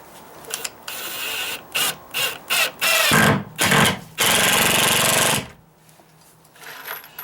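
A ratcheting power drill whirs in several short bursts driving 1.25-inch screws into wood, then runs in two longer grinding pulls with a ratcheting clatter, close by, before falling quiet.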